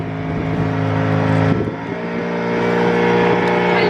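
Steady engine drone of a bus on the road in Senegal's Sine Saloum area, a loud continuous low hum with sustained tonal harmonics and a brief dip midway, no talking.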